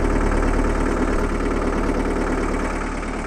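A John Deere 4520 farm tractor's engine runs wide open in B4 gear, giving a loud, steady diesel drone with a pulsing low rumble and no talk over it.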